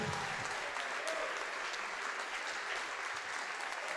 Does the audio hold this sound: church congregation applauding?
yes